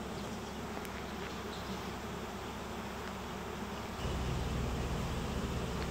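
A honey bee swarm in Albania gives a dense, continuous buzzing drone, steady and fairly loud throughout, with a slight rise in low rumble partway through and no talk.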